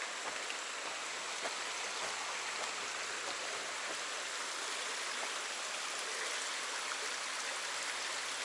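A stream along a hiking trail flows in a steady, even rush of water, constant and close, with no voices or other sounds over it.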